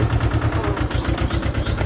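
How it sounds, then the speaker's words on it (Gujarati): A Mahindra JIVO 225 DI 20 hp mini tractor runs in a green orchard, its engine chugging in a loud, steady low thump of regular pulses at close range, with no voices. "ટ્રેક્ટર મહિન્દ્રા કંપનીનું છે ને, એકદમ સારું આવે છે।"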